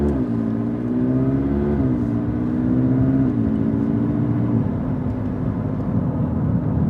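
A 2019 McLaren 600LT supercar pulls away under light throttle, its engine droning loud and close with a rising pitch that dips at each gearshift, steady throughout with no talk.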